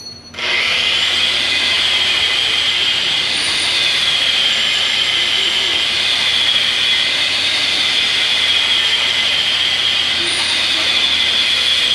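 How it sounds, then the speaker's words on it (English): A wire wheel grinds dirt off model railroad track parts in a steady, loud, harsh whirring scrape that starts abruptly and runs continuously for several seconds. "the wire wheel. He's gonna go down through here and he's gonna clean all that off"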